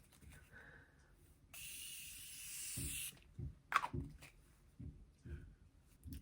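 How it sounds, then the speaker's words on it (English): Morphe Continuous Setting Mist sprayed onto the face in one long, close, continuous hiss lasting about a second and a half, followed by quiet breathing. "I'm gonna set my face one more time with the Morphe Continuous Setting Mist."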